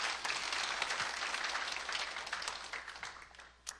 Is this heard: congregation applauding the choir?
yes